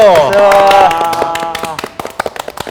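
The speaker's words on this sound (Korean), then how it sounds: "박수!" A brief burst of clapping from a small group of Gen.G League of Legends players seated together, rising after voices fade and ending in scattered sharp claps.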